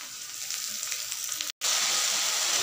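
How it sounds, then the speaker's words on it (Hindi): Chopped bottle gourd and potato pieces frying in a pan over high flame give a continuous bright sizzle, broken by a brief silent gap before resuming louder, with no voices. "लौकी और आलू को भी एक से दो मिनट तक अच्छे से भून ली हूँ"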